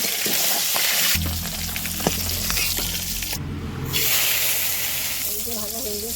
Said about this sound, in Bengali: মাছ তেলে দিচ্ছি